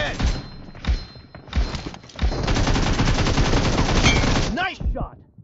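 Rapid automatic gunfire from PUBG Mobile, played in team deathmatch on an iPad 8th gen, cracks in loud bursts: a few short volleys, then a sustained stream of shots, close and punchy, with game voice lines alongside.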